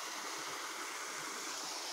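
The Bohista River in Guwahati, running full, makes a steady, even rush of flowing water, a soft continuous hiss without breaks or voices.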